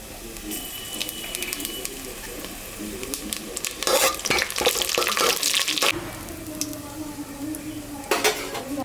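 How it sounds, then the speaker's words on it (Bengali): Dry red chillies and cumin seeds tempering in hot mustard oil in a cooking pot, a crackling sizzle broken by bursts of metal spoon clatter and scraping against the pot, close by and without speech. "এখন আমি সর্ষের তেল দিলাম সম্বরাতে শুকনো লঙ্কা আর জিরা সম্বরা দিলাম"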